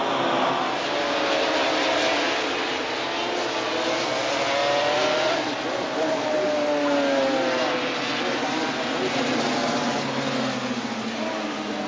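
500cc Grand Prix motorcycles, including Yamahas, racing at Hockenheim in 1985, a continuous distant engine drone with rising and falling pitch sweeps as bikes pass, no talk heard.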